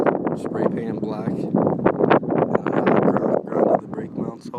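Gusty wind buffets the microphone outdoors beside a black spray-painted We the People Phoenix BMX bike, a low rumble running steadily under a man's close, continuous talking.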